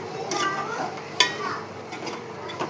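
A utensil stirs salted food in a pan, giving soft scraping strokes with a few light clinks of metal, close and fairly quiet, with no talking.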